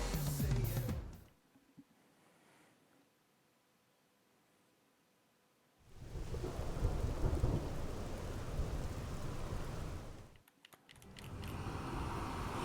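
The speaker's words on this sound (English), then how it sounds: "Why is it raining?" Rain and thunder from the video game Xenoblade Chronicles X: a loud rumbling burst fades to a quiet lull, then a heavy roar of rain and thunder returns, dips briefly and surges again.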